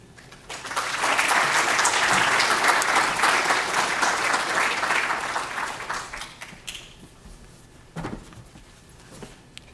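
An audience applauds to welcome Karen Wilkin to a museum roundtable on the Solomon Collection, a warm, sustained wash of clapping that builds quickly, holds for several seconds, then thins out, followed by a few scattered knocks.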